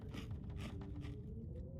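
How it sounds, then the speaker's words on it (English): Crunchy chewing and crinkling of a granola bar being eaten in the survival game The Long Dark; three soft bursts of crunch close up, quiet, with no talk. "Eat one of our granola bars."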